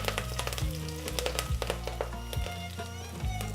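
Urad dal, ginger, green chilies and curry leaves fry in hot coconut oil with a steady close sizzle, broken by a few sharp pops and crackles.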